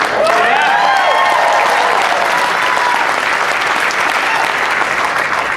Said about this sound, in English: go ahead and clap it up for controversy